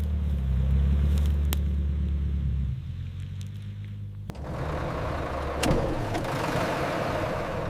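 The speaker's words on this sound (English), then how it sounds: "The engine's hum is the signal of a successful return." A car engine hums with a low, steady rumble at moderate distance, shifting to a lighter, busier tone midway and continuing alone without speech.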